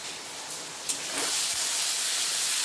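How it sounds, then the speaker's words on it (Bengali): Onion, ginger and garlic paste sizzling in a hot pan, a bright broadband hiss that swells after a brief clatter and then holds steady and loud. "পেঁয়াজ আদা রসুন ভালোভাবে ভেজে নেব আমি।"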